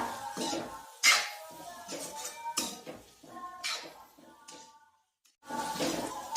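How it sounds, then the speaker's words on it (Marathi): Coriander is stirred into a cauliflower, potato and pea curry in a pan, with a spoon scraping and clinking against the metal in irregular strokes, fairly close, followed by a short pause and more stirring. "आता आपण कोथिंबीर छान मिक्स करूया।"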